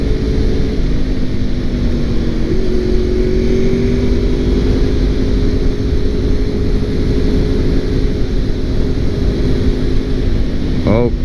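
A 2002 Honda VFR800 motorcycle engine hums steadily and loudly throughout a ride, with a constant drone and faint wind noise; a voice speaks briefly over it.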